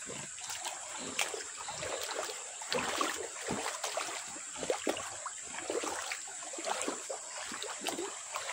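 Shallow river water flowing along the bank beside a sandbar, a steady trickling wash with small irregular splashes, close and fairly quiet, with no voices.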